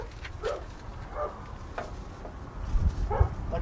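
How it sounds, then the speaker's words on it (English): A dog barks several times at a distance near a camping trailer at sunset, a few sharp yips spread across a few seconds over low outdoor rumble. "The dog's barking."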